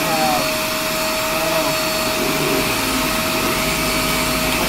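A car polisher fitted with a polish pad and compound runs in a loud, steady whine with a constant high tone, unbroken from start to finish.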